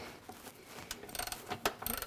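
Ratchet loosening the rear bumper bolts on a Jeep Wrangler JL Unlimited, a faint, quick series of metallic clicks in uneven bursts.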